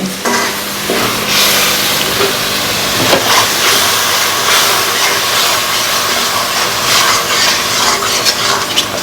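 Spice masala fries in a pan for a mung dal with fish head, a loud close sizzle and steamy hiss running throughout, with occasional stirring scrapes and bursts.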